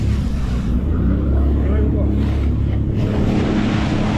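A jet ski engine drones loud and steady on open water while the craft struggles to get up to speed, with heavy wind rush over the microphone throughout.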